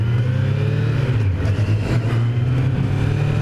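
A 2018 Kawasaki Z900 motorcycle engine runs steadily and loudly with a strong low throbbing note, holding a fairly constant rev with slight surges, close by and without speech.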